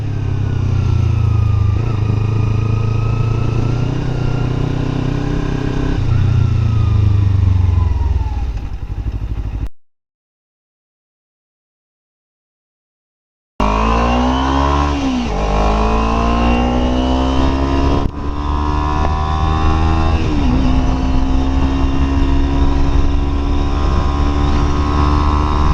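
Motorcycle engine running steadily while riding a Malibu canyon road, with rising and falling revs through gear changes and a brief silent gap in the middle; loud and close throughout.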